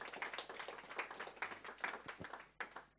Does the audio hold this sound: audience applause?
yes